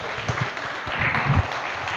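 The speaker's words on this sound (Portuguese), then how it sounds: "Vamos aplaudir o nome do Senhor Jesus." A church congregation at a worship service applauds, a steady wash of many hands clapping at moderate volume for a couple of seconds, with a faint voice underneath.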